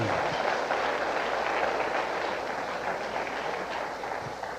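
A church congregation applauds the Lord in a steady, dense wash of clapping that holds at an even level throughout, with no voices standing out.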